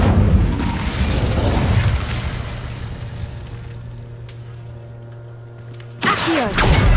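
In Hogwarts Legacy, the Incendio fire spell goes off with a loud whooshing burst that fades into a low sustained hum, and a second sharp burst follows near the end.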